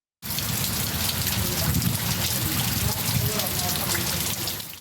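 Heavy monsoon rain pours down steadily in Pakistan, a dense, loud hiss that holds constant after a sudden start and has no voices over it.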